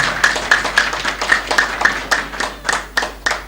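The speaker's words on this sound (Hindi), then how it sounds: "जोरदार तालियां हो जाए इनके लिए" A few people clap their hands in a sparse, uneven rhythm for an honoree at a prize-distribution ceremony, close by, with a dozen or so distinct claps over a few seconds.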